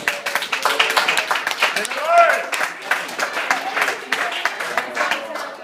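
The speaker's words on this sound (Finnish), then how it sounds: "Antakaa aplodit vielä siitä." An audience at a stand-up comedy night in a bar breaks into dense, steady clapping that lasts throughout, with voices and crowd murmur mixed in.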